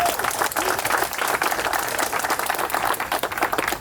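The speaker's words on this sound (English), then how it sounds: "Everybody give welcome applause to Jameis Winston." Crowd at a school character-day assembly applauds to welcome a Tampa Bay Buccaneers quarterback, a dense, steady wash of clapping that fills the whole stretch at even loudness, with faint voices mixed in.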